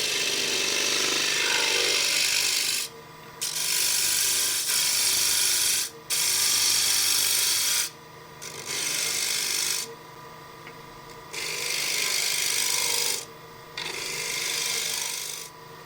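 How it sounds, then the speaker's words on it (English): Wood being rough turned on a lathe with a 10 mm spindle gouge, for a small turned box, in loud rasping bursts of cutting separated by short pauses, close and with no speech. "So the rest of it I can rough turn with 10 mil spindle gouge"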